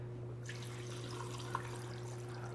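Water pours into an Instant Pot as a steady, soft splashing stream, starting after a brief quiet moment, with a constant electrical hum underneath.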